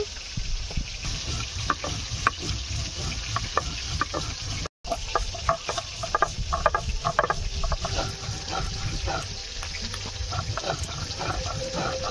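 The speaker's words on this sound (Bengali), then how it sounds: "ওদিকে মাছ ভাজা হচ্ছে" Rohu fish fries in hot oil with a steady, dense crackling sizzle throughout, close and continuous, with scattered sharper pops and no voices.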